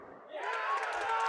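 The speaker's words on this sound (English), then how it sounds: "And the crowd goes wild." Crowd at an amateur bowling national grand final swells into cheering after a brief murmur, a short rising burst of voices heard at moderate distance.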